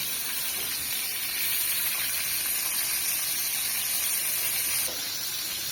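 Loud, steady sizzling hiss of food frying in a hot pan, continuous throughout.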